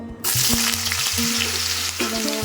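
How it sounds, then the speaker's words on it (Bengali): Potatoes frying in refined oil, a loud continuous sizzle right up close, starting abruptly and holding steady over background music. "আলুগুলোকে ভেজে নিচ্ছি"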